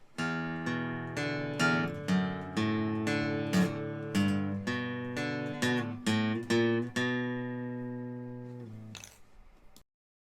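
Plucked guitar notes follow one another in a regular, flowing pattern, ringing clearly and up close, then fade out with a brief rustle at the end.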